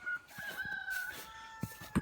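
A rooster crows near a chicken run, a drawn-out, strained cock-a-doodle-doo at moderate distance, with a few soft clucks and light thumps around it.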